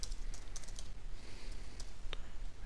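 Page name being typed on a computer keyboard for an interface editor, a few scattered light key clicks over a steady background hiss, quiet and close.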